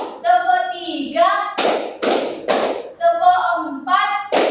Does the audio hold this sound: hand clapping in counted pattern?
yes